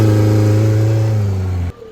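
Motorcycle engine revving loudly and steadily for a track day noise test, a close, sustained mid-pitched roar that cuts off abruptly near the end.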